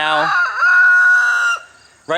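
Chicken in a coop holding broody hens, a loud, close, drawn-out crow-like call that cuts off briefly before another begins.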